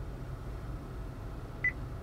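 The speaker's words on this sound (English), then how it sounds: "After the beep, say a command." Acura voice recognition system prompt beep, a single short, clean electronic tone sounding once over a faint, steady cabin hum.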